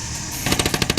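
A rapid burst of automatic gunfire erupts during fighting in Mosul, Iraq, with about a dozen loud, evenly spaced cracks following a brief stretch of steady background noise.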